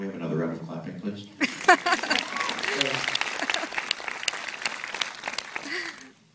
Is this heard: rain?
no